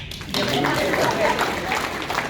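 Graduation ceremony audience claps steadily, a dense, fairly loud patter of many hands lasting a couple of seconds, with voices mixed in.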